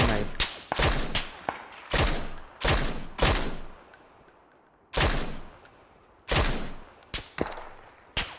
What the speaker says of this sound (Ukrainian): Там стріляло.